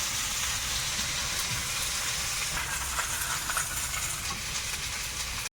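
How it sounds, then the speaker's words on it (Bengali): Loud, steady sizzling of elephant foot yam and potato frying with salt and turmeric in hot oil in a wok, a dense continuous crackle heard up close with no voices. "এই ওল আর আলুটা একটু লবণ হলুদ দিয়ে ভেজে নিচ্ছি আগে।"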